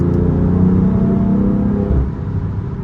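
A BMW F80 rumbles along at low engine revs, a deep steady drone from inside the car that softens slightly toward the end, with no talking.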